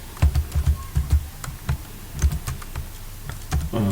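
Typing on a computer keyboard while entering Excel VBA code, a steady run of close, crisp key clicks in uneven bursts with no talking.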